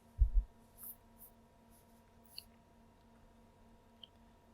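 A lock pick works inside an MTL MT5+ lock, giving a few soft, sparse clicks and faint taps close up in near silence, with a low electrical hum underneath.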